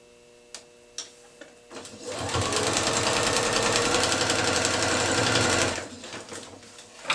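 A sewing machine stitching pieced quilt triangles, starting with a couple of clicks, then running fast and steady in a loud, close, rapid mechanical whir for several seconds before stopping.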